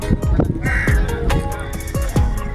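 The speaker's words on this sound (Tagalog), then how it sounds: "Mga uwak lahat yan." Several crows caw loudly in repeated harsh calls, overlapping at close range with a steady outdoor background.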